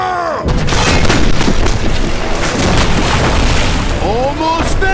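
Cannon fire and explosions in a pirate-style action film: a heavy, close boom erupts and rolls on as a continuous roar of blasts and rumbling, with shouting voices briefly heard at the start and near the end.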